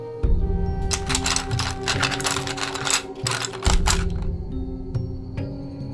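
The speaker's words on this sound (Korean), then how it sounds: "수화기 너머로 미세하게 뭔가가 거칠게 종이를 긁어대는 연필 소리가 들리는 겁니다" A pencil scratches roughly across paper in a run of harsh, rapid strokes, loud and close, then stops, with a faint background hum underneath.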